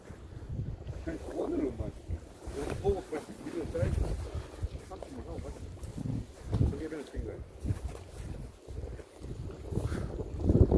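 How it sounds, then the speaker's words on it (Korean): Strong wind roars and buffets the microphone in gusts, with people talking loudly over it while night fishing for rockfish on the coast at Samcheonpo, South Korea. "여러분들 지금 바람이 장난 아닙니다"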